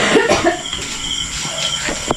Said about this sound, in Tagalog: Inuubo ko na rin.